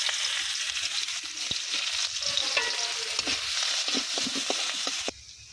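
Chopped onions sizzle and crackle steadily in hot oil for a bottle gourd curry cooked over a wood-fired stove, with occasional stirring clicks, then the frying drops abruptly to a quieter hiss near the end.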